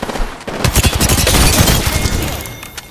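Rapid bursts of automatic gunfire in Apex Legends, a dense, loud volley of overlapping shots ringing out up close over a few seconds before tapering off.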